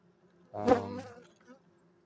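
Honeybees buzzing around about four frames in a spring hive: a single swelling, droning buzz that rises and fades over about a second, close by, with near silence around it.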